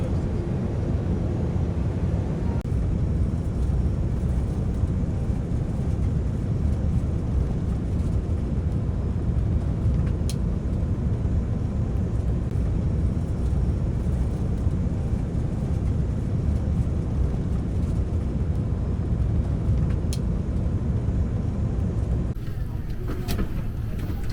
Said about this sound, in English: the plane started descending into Shenzhen